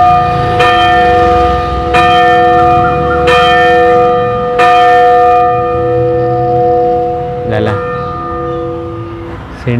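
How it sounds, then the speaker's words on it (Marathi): Church bell at St. Paul's Church in Pune rings out in several loud, resonant strikes spaced a second or so apart, each tone hanging and decaying, with faint background sound between. "सुंदर चर्चचा घंटा वाजतोय"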